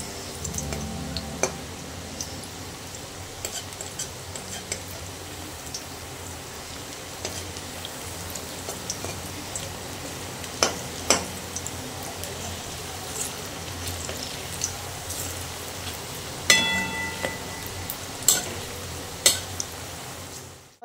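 Soya chunk pakoras fry in a kadai with a soft, steady sizzle and crackle, a faint bubbling bed broken by scattered sharp pops and spatters.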